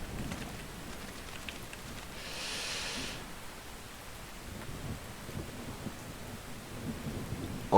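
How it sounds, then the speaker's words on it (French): Steady rain pattering on surfaces, with a soft rumble of thunder rising and fading partway through, a constant wet hiss under everything and no voices. "en plus il pleut"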